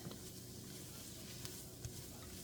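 A spoon stirs a pot of chicken noodle soup after salt and pepper go in, a quiet, steady scraping swirl with a faint sizzle underneath.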